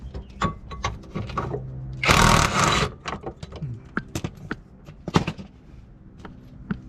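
A long bolt is worked free from a Dodge Neon transmission mount, with sharp metallic clicks and knocks and a dense scraping burst in the middle, close and fairly loud.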